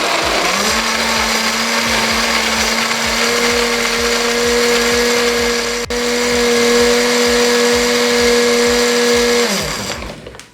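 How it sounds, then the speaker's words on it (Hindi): A blender runs continuously for about nine seconds, whirring Rooh Afza lassi with ice, loud and close, then winds down at the end. "अब इसमें बर्फ ऐड करेंगे, दोबारा से इसे 1 मिनट के लिए ब्लेंड कर लेंगे।"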